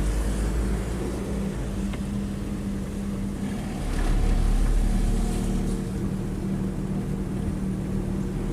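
A soil dump truck drives past at a toll road construction site between Senawar and Pijoan, its steady engine rumble swelling louder for a few seconds midway, with no talk.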